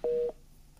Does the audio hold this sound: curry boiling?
no